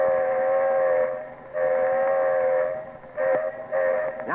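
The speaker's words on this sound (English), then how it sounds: "This is the grade crossing whistle." Lionel model train whistle giving the grade crossing signal, a sequence of loud blasts, two long then two short, sounding alone and close.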